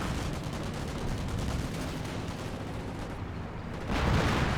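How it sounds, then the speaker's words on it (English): An artillery barrage in the real-time strategy game Company of Heroes, a dense continuous rumble of rapid blasts and gunfire that swells louder near the end. "an actual barrage being brought on in."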